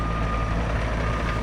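A dump truck reversing while delivering fill for a driveway in Alaska, a steady high backup beep over a loud, close diesel engine rumble, continuous through the moment with no talking.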